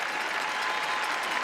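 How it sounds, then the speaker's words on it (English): Arena spectators at the 2009 World Figure Skating Championships ice dance free dance give a sustained, even roar of applause, heard from a distance without voices. "The Canadian contingent, you can see in the background, all standing to applaud."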